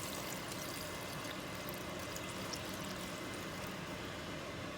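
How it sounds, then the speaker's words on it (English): Beef bone broth pours into a pot for a pot roast, a quiet continuous watery rush with a soft steady trickle and no other sound. "So that's 2 cups of the beef bone broth. Swish it a little bit. Now we're gonna add this to the pot."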